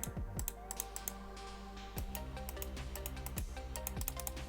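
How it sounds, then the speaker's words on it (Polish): Crisp, fairly sharp clicks from the buttons of an ASUS ROG Gladius 3 Wireless gaming mouse, pressed in quick irregular bursts and clusters with short pauses, close and quiet with no talking. "Bardzo przyjemne kliknięcia."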